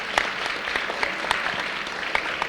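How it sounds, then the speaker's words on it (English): An audience applauds students from two schools on stage at a school event, steady dense clapping throughout with a few sharper individual claps standing out. "A big round of applause for the 2 schools."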